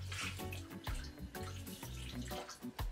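Juice is poured into a container while making a blue slushy drink at home, giving a steady splashing, gurgling stream with small bumps and drips over three seconds.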